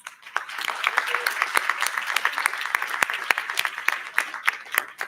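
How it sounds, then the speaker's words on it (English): Audience applause for public safety officers at a Tanana Chiefs Conference board meeting, a room of steady clapping that builds quickly and holds for several seconds, moderately near. "let's give them a round of applause."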